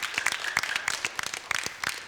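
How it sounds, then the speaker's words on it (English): A church audience at a confirmation workshop claps for its guests, a brief patter of scattered hand claps at moderate distance with no speech over it. "let's give these folks our appreciation hand. We'll clap for them."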